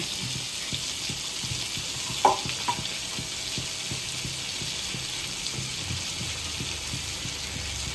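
Cumin and mustard seeds sizzle in hot butter for a pav bhaji tempering, a steady soft hiss with small crackling pops and a brief clatter partway through.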